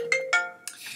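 A mobile phone ringtone chimes in a teaching room during a lesson, with a few bright melodic tonal bursts in quick succession, clear and close, with no talk over it.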